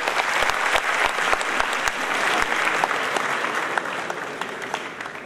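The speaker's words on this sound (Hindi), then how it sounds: "अब मैं चाहूँगा जो तालियाँ बजा रहे थे इन्हें और इतना लंबा बजाएं और लता दीदी से स्वयं कहें" An audience at an award ceremony honoring a writer and lyricist applauds steadily, a dense, sustained clapping that fades slightly toward the end, with a few louder nearby claps standing out.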